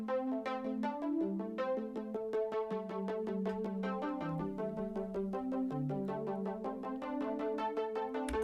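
A bright synthwave synth melody with an 80s feel plays alone in quick, evenly plucked notes, moving through a repeating two-part phrase with a retro electronic tone.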